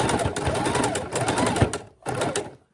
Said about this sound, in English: we're going to do a quick stitch all the way around our purse.